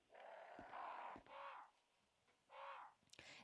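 Crows caw in a room in a Resident Evil video game, three harsh calls spaced out with short clicks between them, fairly faint and somewhat distant, with no talking.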